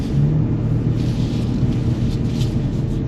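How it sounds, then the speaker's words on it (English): A 2025 F66 Mini Cooper S pulls away on the road, heard as a steady, low engine rumble with road noise from inside the cabin and no voices. "Put the car in drive."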